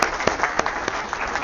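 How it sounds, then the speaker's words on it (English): Audience applause greets a guest at an annual town hall conference, a short burst of scattered clapping from the room with faint voices underneath. "let's welcome him with a round of applause"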